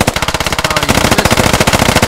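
Rapid machine gun support fire in a military shooter game, Operation: Broken Crossbow, a loud, steady stream of rounds lasting about two seconds with no break.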